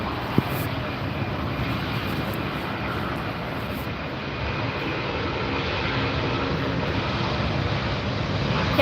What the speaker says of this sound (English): Catch up with this Delta here that's heading out.